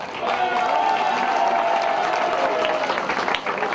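A crowd applauds steadily for a sports club being introduced at a tournament in Moissac, a dense, continuous clapping that fills the whole stretch at even loudness, with a voice briefly audible within it.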